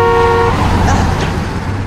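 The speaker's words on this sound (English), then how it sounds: "all the time honking like they owned the place." Car horn honking on a New York street, a loud sustained toot at the start that cuts off after half a second, over road traffic noise with a voice speaking nearby.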